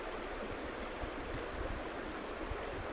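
River water in Sedona, Arizona flows steadily, a broad continuous rushing wash with soft low burbles underneath, even and unbroken throughout with no voices.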